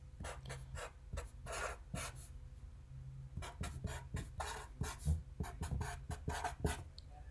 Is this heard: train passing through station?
no